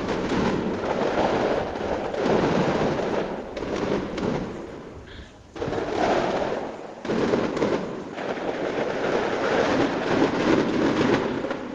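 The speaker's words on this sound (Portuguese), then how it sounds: "foi iniciada uma sequência de fogos de artifício. Este foi o som ouvido pelos moradores." A long, dense barrage of fireworks crackling and booming, with rapid overlapping bursts that barely pause before starting up again.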